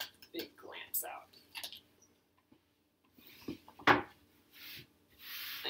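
Hands rub and smooth quilt layers spread on a table in short intermittent swishing strokes, with quiet pauses between them and someone talking near the end.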